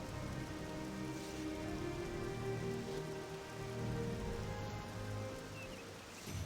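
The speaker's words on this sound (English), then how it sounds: "it's a rainy day today" Steady rain in the video game Elder Scrolls 3 falls continuously on surfaces, a dense even hiss with no talk over it.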